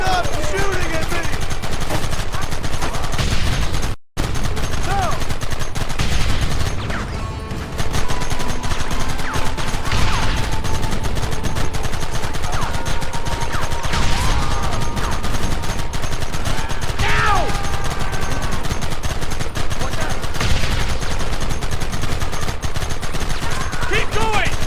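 Dense gunfire in the Red Dead Redemption video game, steady bursts and shots running throughout under shouting voices and game sound, loud and continuous with one brief dropout.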